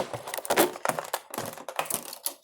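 Crisp plastic crackling and snapping in quick bursts, close up, as stiff packaging is pried and torn open.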